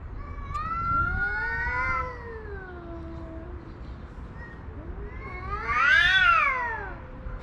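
Homeless cats yowl in long drawn-out rising and falling wails, one cat answering another, with a louder, higher caterwaul near the end as they face off to fight, fairly close with no talk.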